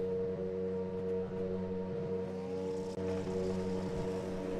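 A grid of Formula Super Series race car engines in iRacing idle and hum at Hockenheim before the start, a steady layered drone with revs building, fairly quiet and without talk.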